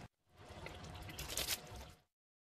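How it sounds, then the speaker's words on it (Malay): Coconut milk is poured into a pot of curry with cockles and spice paste for mee kari. The pour is a steady, close liquid stream lasting about two seconds before it stops abruptly. "Barulah kita masuk santan."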